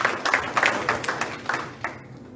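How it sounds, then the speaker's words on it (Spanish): Congregation at a Spanish-language church service clapping: a brief, moderately loud burst of scattered claps that fades out after about two seconds. "Den un aplauso grande al Señor por esta preciosa enseñanza."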